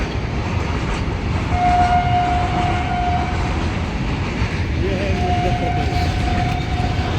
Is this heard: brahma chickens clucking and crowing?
no